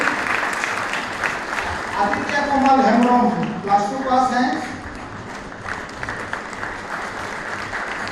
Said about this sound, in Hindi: ताली नहीं रुकना चाहिए।